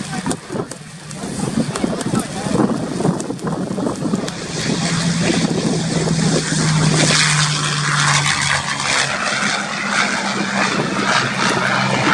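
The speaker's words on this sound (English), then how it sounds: "there's the Mustang then on the roll to get into the air" A P-51 Mustang propeller plane at an air show rolls for takeoff, its engine drone building louder and rougher through the run, with commentary talk and wind over it.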